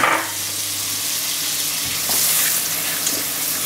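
Filet mignon searing hard in a hot pan of olive oil and butter, a steady close sizzle and crackle with no one talking.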